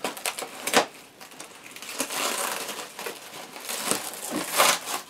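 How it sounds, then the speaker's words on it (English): Cellophane wrapping is peeled and crumpled off a Mamod tractor kit box, close, crackling crinkles and crisp tearing rustles in irregular bursts. "we'll get the cellophane off"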